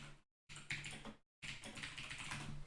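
Typing on a computer keyboard: quick bursts of close, crisp key clicks, broken by two brief total silences, with no talking.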